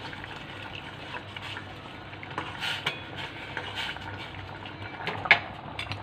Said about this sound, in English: So now we have to boil just only some more 2 minutes only.